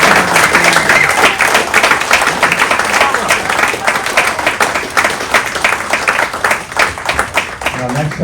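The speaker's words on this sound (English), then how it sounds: "Let's give her one more round of applause." A Rotary club audience gives a sustained round of applause, many hands clapping steadily and loudly throughout, with voices mixed in underneath.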